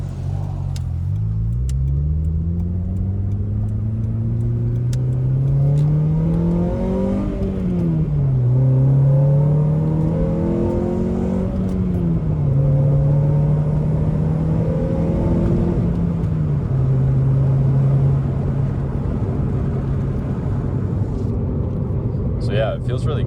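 An Acura TSX fitted with an aftermarket shifter accelerates hard through the gears, its engine note climbing steadily and then dropping at each quick upshift, heard loud and close from inside the car.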